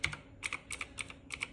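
Loud key clicks on a Razer Chroma V2 keyboard, struck in quick irregular bursts of sharp clacks with brief pauses between, close and clear with no talking.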